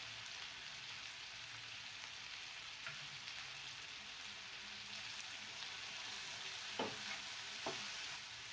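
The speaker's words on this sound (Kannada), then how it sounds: "ಬನ್ನಿ ಕ್ಯಾಪ್ಸಿಕಮ್ ಹಾಕ್ತಾಯಿದ್ದೀನಿ. ಇದು ಕೂಡ ಆಯಿಲಲ್ಲಿ ಚೆನ್ನಾಗಿ ಫ್ರೈ ಆಗಲಿ." Capsicum fries in oil with a pinch of salt for egg chilli Manchurian, giving a soft, even sizzle throughout with a couple of faint stirring scrapes near the end.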